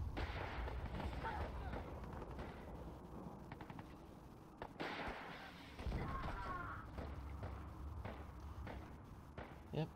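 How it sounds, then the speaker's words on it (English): Missile explosions and gunfire rumble from a PANPC war game, with repeated booming impacts and thuds over a continuous dense battle din, loud and sustained throughout. "That was a missile."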